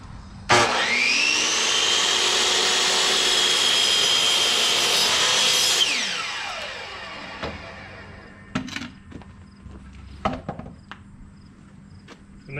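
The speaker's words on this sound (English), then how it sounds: "I'll flip it around and I'll cut this one next," A power saw spins up and rips steadily through pallet wood for an aquarium stand, a loud sustained whine of about five seconds that winds down, followed by several sharp knocks and clunks as the cut pieces are handled.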